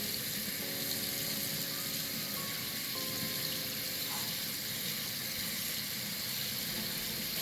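Hot water gushes steadily from a tap into a sink, a continuous broadband hiss filling the whole span with no voices.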